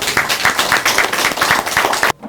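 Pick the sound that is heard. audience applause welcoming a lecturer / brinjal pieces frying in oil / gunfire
audience applause welcoming a lecturer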